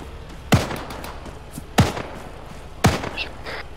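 Gunfire in the Otstrel shooter game comes as three sharp, separate shots spaced about a second apart, each a punchy crack with a short tail over a quiet background.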